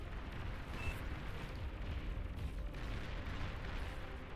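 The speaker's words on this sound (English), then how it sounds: "So that's the heavier artillery." Heavy artillery fires in the real-time strategy game Beyond All Reason during an 8v8 battle on the Supreme Isthmus map, producing a faint, dense rumble of overlapping distant booms and blasts that roll on continuously.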